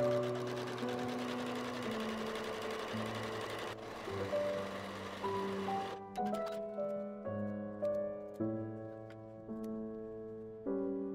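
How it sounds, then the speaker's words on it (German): A sewing machine runs a zigzag stitch along the edge of linen fabric, a rapid rhythmic clatter that comes in several bursts of varying speed, stopping and starting, with no talk. "die Kante hier, die versäubern wir jetzt noch schnell mit einem Zickzackstich oder deiner Overlock"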